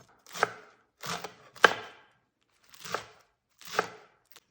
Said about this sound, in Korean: 부추도 잘게 썰어서 넣어주도록 할게요